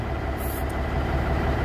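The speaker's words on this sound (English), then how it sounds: "it idles real good. It's real smooth." A Cummins N14 Celect Plus diesel in a Peterbilt 379 truck idles steadily and smoothly, a low even rumble held close and alone throughout.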